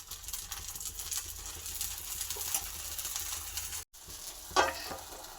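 Ragi neer dosa frying with oil on a hot dosa pan, a steady close hiss and sizzle throughout with a brief break and a small scrape near the end.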